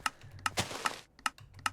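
A seed-deleting wheat farm machine in Minecraft gives off sharp, dry clicks in an irregular rhythm, several distinct ticks with a brief burst of rapid clicking in between, close and fairly quiet.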